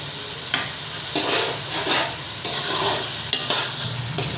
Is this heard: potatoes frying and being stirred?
yes